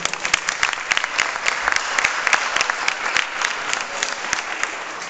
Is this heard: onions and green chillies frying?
no